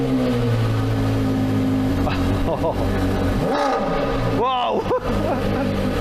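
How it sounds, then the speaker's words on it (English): A Porsche Carrera GT with a naturally aspirated V10 cold-starts and revs, a loud close roar that climbs and falls through several sharp throttle blips, while a voice exclaims over it. "The first car we're going to cold start is the Carrera GT. Let's fire up this naturally aspirated V10."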